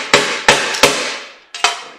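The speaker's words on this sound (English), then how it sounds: "I don't need a big hammer, I need a little hammer." A small hammer striking metal parts from a scrapped refrigeration fan unit, five sharp ringing blows in an uneven rhythm, loud and close, each with a short metallic decay.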